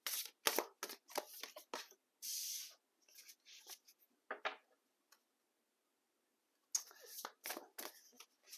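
Tarot or oracle cards shuffled by hand in short crisp bursts of riffles and flicks, separated by pauses, fairly close and quiet, with a voice speaking now and then.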